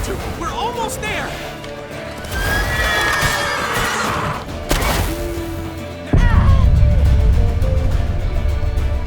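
A horse in The Witcher 3 whinnies loudly several times amid frantic shouting, clattering hooves and crashing impacts during a tense chase.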